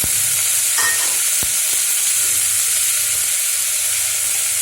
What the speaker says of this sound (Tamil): இப்போ எடுத்து வச்சிருக்க வெங்காயம் ஆட் பண்ணிக்கலாம்.